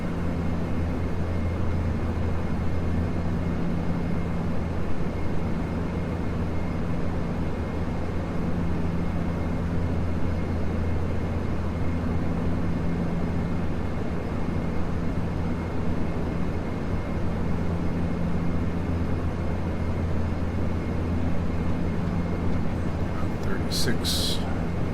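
A steady, droning propeller aircraft engine in Flight Simulator X at reduced RPM, running continuously and evenly throughout with a brief click near the end.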